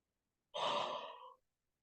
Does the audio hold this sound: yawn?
yes